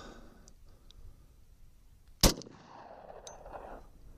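A single 10mm pistol round, a 200-grain HST load fired through a standard barrel over a chronograph, cracks out as one sharp, loud shot that is followed by a short ringing tail in an otherwise quiet setting.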